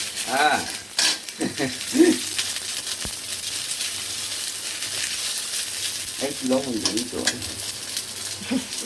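Breakfast fries on a home stove with a loud continuous sizzle and stirring scrapes, and voices talk intermittently over the crackle.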